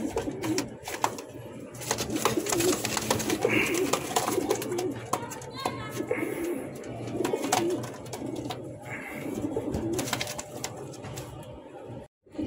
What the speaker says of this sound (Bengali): এখানে আরেক জোড়া গোল্লা কবুতর দেখাচ্ছি